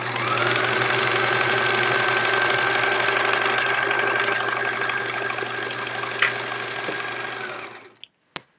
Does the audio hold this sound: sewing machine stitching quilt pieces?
yes